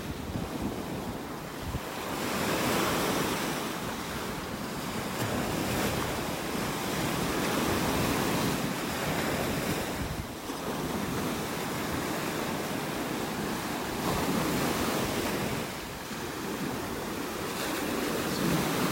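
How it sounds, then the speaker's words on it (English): Ocean waves washing onto a beach in North Naples, Florida on a morning beach walk, rolling surf in repeated swells with steady wind buffeting the microphone, no voices. "Nice little wave action out here this morning."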